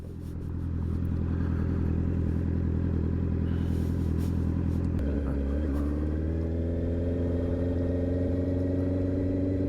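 A Honda CB650R motorcycle rides through Edmonton city streets, its engine droning steadily throughout, then dropping and climbing again partway through as the rider shifts and pulls away.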